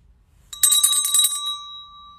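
A small handheld bell is shaken close by: a quick flurry of bright metallic rings, then one clear tone that hangs and fades slowly after the ringing stops.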